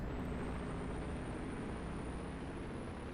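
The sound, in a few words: Detroit diesel truck engine in the video game American Truck Simulator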